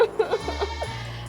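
Several short goat bleats in quick succession from a goat kept in a pen in a narrow city alley, close and fairly loud over a low steady hum, with no one talking.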